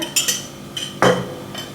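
Pongal with a pinch of ghee stirred in a pan, a few sharp scraping clinks of a metal spoon against the pan with a louder scrape near the middle.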